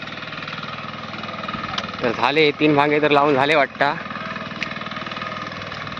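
A tractor engine drones steadily and a little distant across a Konkan rice-planting field, a constant rumble running throughout while someone speaks over the middle section.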